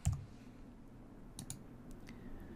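A computer mouse is double-clicked on a Windows 10 PC: two quick, faint clicks close together, heard alone against a quiet background.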